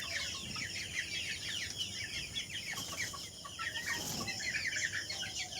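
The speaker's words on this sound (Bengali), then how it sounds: "তো এই মুরগিটা দেখেছেন কত সুন্দর ঝুটি মাথায়," Chickens on a farm, including white hens and roosters, clucking in busy overlapping chatter with scattered higher calls, moderately close and steady.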